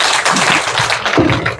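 Applause from a lecture audience after a theology talk: dense, even clapping from many hands, loud and close throughout, with no voices over it.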